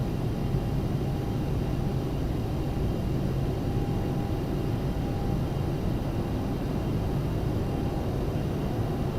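A Boeing 747-8F cargo jet climbs after takeoff in the X-Plane 11 flight simulator, its engines giving a steady, unbroken roar with no voices.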